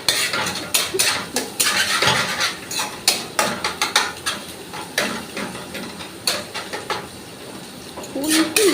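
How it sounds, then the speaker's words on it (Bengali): A metal spatula stirs and scrapes egg bhujia, spiced scrambled eggs, in a home pan, with rapid irregular clinks and scrapes against the metal, close and busy, over faint kitchen background. "ডিমের ভুজিয়া হচ্ছে।"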